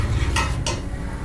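A spoon stirs spices with coriander powder in a pan for Punjabi kadhi, making two sharp metallic clinks and scrapes over a low background hum.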